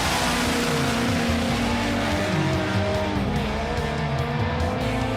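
Loud, close engine roar of a Top Fuel drag bike on a qualifying run, with rising and falling revving tones over a steady harsh noise bed.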